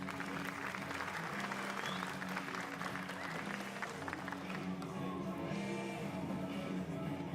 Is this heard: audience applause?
yes